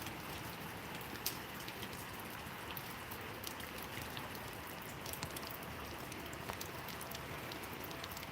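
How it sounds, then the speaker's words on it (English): Heavy rain pours outside in a dense, steady hiss, scattered drops tapping sharply on surfaces, with no voices. "It's friggin' raining. It's pouring right now."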